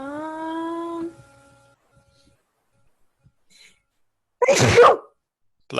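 A single loud, sharp sneeze near the end, a brief explosive burst close by after a sung tone and quiet, with a soft click following.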